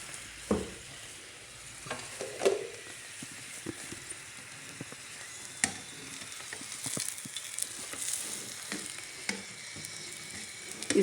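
A whole wheat paratha stuffed with spiced grated radish cooks on a hot tawa over a medium-low flame, giving a steady soft sizzle with occasional faint clicks and scrapes.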